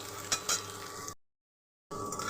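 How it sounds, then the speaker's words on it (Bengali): Chopped onion frying in oil in a pan, a soft steady sizzle with a couple of scraping stirs near the start, briefly cut to silence before the sizzling resumes. "এরপর কুচো পেঁয়াজটাকে দিয়ে নেব একবার ভালো করে নাড়াচাড়া করে নেব"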